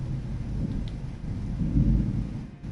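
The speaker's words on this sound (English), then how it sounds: "Now I'm hearing thunder." Low distant rumble of thunder in a video game storm, a soft rolling swell that builds briefly under faint rain-like hiss.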